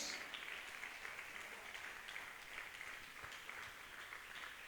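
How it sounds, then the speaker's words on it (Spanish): Congregation in a church applauding, a steady, dense wash of clapping from many hands that continues evenly throughout, with faint voices mixed in. "Y dele un aplauso al Padre, un aplauso al Hijo y un aplauso al glorioso y santísimo Espíritu de Dios."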